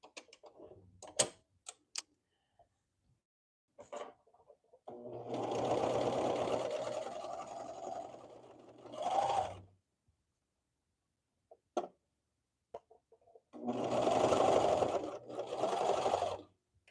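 A sewing machine topstitches fabric in two steady running bursts of several seconds each, separated by quiet pauses filled with small clicks and handling taps.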